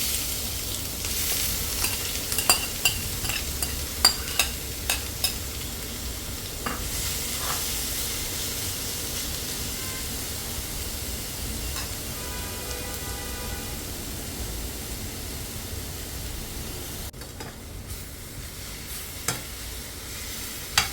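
Ground coconut sambal fries and is stirred in a pan, giving a steady broad sizzle with scattered scraping clicks from the spoon, close and continuous, with no voices.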